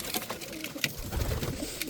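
Close, low cooing from shamli pigeons kept in a rooftop loft rolls on without a break, with small clicks and shuffles among the birds and no voices.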